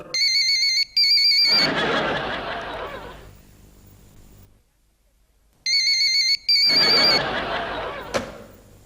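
An electronic telephone ringtone sounds in two loud bursts separated by a pause, each followed by what seems like a lingering reverberant swell, with no talking.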